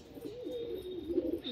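Punjabi pigeons coo in a loft, a soft, close, rolling call from one or more birds with no talk over it.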